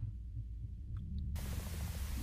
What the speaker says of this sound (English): Only white noise on this TV.